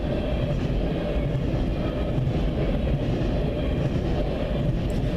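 A CN freight train with a DPU locomotive rolls past in Ladysmith, a dense steady rumble and wheel clatter holding at constant loudness throughout, with no voices.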